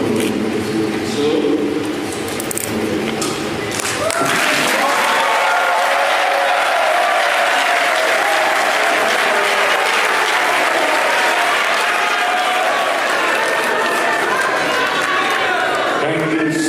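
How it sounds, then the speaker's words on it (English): Loud, sustained applause from a crowd at an Edo State deputy governor swearing-in ceremony, steady clapping throughout with a brief voice or cheer near the start. "Can you deserve another round of applause?"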